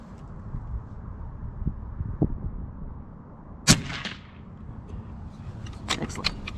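One sharp, muffled crack from an Umarex Gauntlet 30 airgun fitted with a moderator, heard close over low background noise, followed by a few fainter clicks and knocks with no talking.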